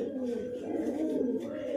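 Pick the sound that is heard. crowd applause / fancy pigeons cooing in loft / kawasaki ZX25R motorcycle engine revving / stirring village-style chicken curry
fancy pigeons cooing in loft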